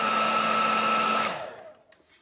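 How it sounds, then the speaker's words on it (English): Hair blow dryer heating the plastic arms of a Star Wars Black Series Boba Fett action figure, a steady loud whirring blast that cuts off and fades away into quiet. "I just heated up the arms with like a blow dryer from underneath"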